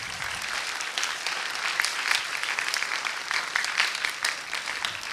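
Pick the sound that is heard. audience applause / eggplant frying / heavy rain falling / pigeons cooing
audience applause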